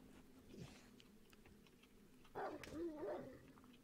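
A wolf in the video game 7 Days to Die growls low and rough in two bursts, a brief one early and a louder, longer snarl later, close and alone against a quiet night backdrop.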